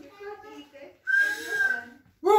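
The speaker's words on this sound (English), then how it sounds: "She is whistling for the last rule" A baby whistles in one sustained, slightly wavering tone lasting about a second, set between stretches of an adult talking nearby.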